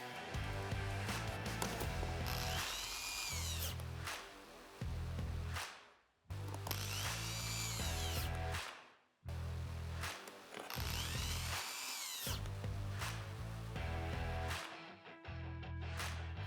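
Power drill backing out Phillips screws from the panel under a Toyota dashboard, three separate whirring bursts of several seconds each with short pauses between, close and clear.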